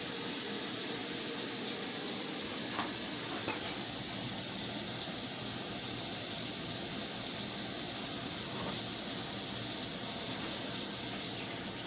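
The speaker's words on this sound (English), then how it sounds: "I put my sausage on." Breakfast sausage sizzles steadily in a pan, a continuous hissing frying sound that stays even and fairly close throughout with no talking.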